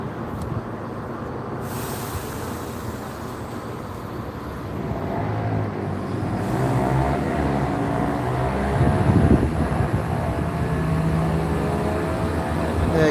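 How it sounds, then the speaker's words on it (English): A train pulling out of Gloucester station on the service to Cardiff Central, a low rumble and rail clatter building steadily and growing louder close by, with no talking. "There goes the train, approximately 10 seconds early."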